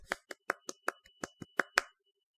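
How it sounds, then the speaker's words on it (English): About nine sharp claps ring out in a quick, fairly even series, loud and close, then stop into silence. "You can hear me clap finally."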